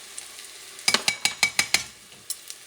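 A spoon scraping and stirring tomato paste into a sizzling soup base in a pot, a quick run of about seven rhythmic scrapes over a low sizzle, close and clear with no talking, then two lighter taps.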